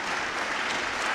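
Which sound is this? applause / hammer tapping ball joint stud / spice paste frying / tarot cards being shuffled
applause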